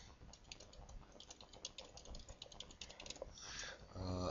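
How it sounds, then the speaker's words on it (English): Typing on a computer keyboard while naming a Minecraft MCForge server in its properties, a quiet run of rapid, irregular key clicks with faint room noise and a brief louder rustle near the end. "I'm just going to type in the name of it"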